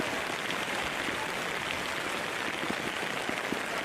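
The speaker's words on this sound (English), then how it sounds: "The rain is at its peak right now." Heavy rain pours down on a high school football field during a night game, a dense, steady hiss of falling water heard at moderate level with no talking.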